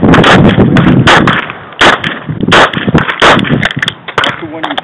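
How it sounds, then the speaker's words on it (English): Gunshots at an outdoor shooting competition fire in a loud, irregular burst of sharp cracks with echoing tails, several shots overlapping closely, while voices talk faintly underneath. "I'm shooting."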